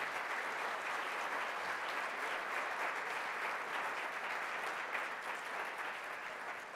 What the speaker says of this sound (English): let's give a warm round of applause to our panelists